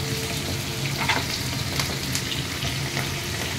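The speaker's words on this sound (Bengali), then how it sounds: "এবার পেঁয়াজটা দিয়ে দিচ্ছি, ডুমো ডুমো করে কাটা পেঁয়াজ।" Diced onions fry in hot oil with chopped garlic, a loud steady sizzle with scattered pops and faint stirring scrapes, no voices.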